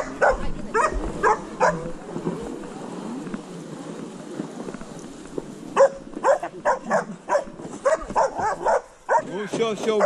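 A dog yips and barks in short bursts, growing more frequent toward the end, near a lakeside fishing spot, with people talking nearby.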